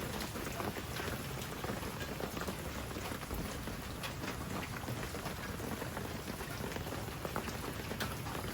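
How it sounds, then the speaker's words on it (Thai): Steady rainfall of the rainy season patters densely and evenly on surfaces nearby, a continuous wash of drops with no pause. "ฝนเริ่มเบาลงแล้วนะ"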